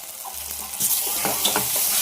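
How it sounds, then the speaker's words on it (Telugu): Fish pieces with chili, curry leaves and spices are stirred in a hot pan, giving a close sizzle with brief scraping strokes. "మనకైతే కారం వేసుకున్న తర్వాత కొంచెం కరివేపాకు పొడి వేసుకొని బాగా కలిపేసుకున్నాం"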